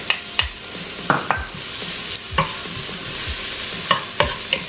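Garlic, ginger and onions sauté in a pan for a Filipino arroz caldo, a steady sizzle under sharp, irregular scrapes and taps of a utensil stirring against the pan, close and fairly loud with no talking.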